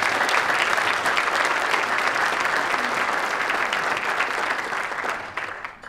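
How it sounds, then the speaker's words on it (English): An audience at a Safe Families for Children event gives a sustained round of applause, dense and even clapping that fills the room before tapering off near the end. "can we just give them a round of applause"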